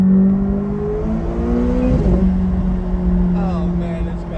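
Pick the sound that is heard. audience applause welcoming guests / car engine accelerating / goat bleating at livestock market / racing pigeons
car engine accelerating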